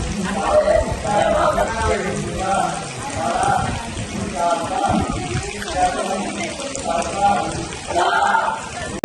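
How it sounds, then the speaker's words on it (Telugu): Camera lowered into temple tank water, with muffled underwater sloshing and bubbling movement throughout and a voice talking intermittently above it. "కెమెరా వాటర్లో పెట్టబోతున్నాను."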